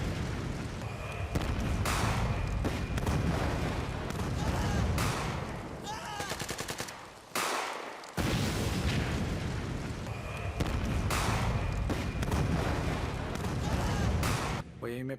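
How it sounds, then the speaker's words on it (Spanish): War sound effects being mixed: dense gunfire and heavy explosions roar continuously, with rapid bursts of automatic fire, a brief drop in level midway, then the barrage resumes at full loudness. "Voy a irme para esta parte a ver cómo suena por acá la explosión."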